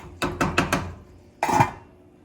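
Metal pot lid clattering onto a cooking pot of shrimp and mussels: a quick run of four close clinks, then a brief pause and a heavier settling clang that rings out and fades.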